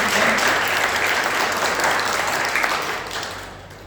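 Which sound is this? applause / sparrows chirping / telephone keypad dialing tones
applause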